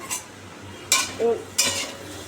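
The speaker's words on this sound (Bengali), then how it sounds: "দেখি আলু ভাজাটা হয়ে গেছে" A few brief scraping stirs of a utensil through frying potatoes in a pan, three short bursts with a faint clink between them, over a quiet background.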